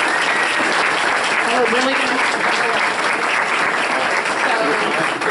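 A school board meeting audience applauds a young team: steady, dense clapping from a roomful of people lasting the whole stretch, with a brief spoken remark and murmured voices underneath.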